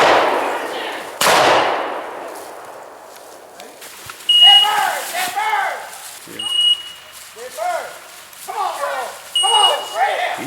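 Shotgun blasts ring out during a pheasant hunt in open country, with one sharp, loud report near the start followed by a decaying tail. Bird calls and voices come after.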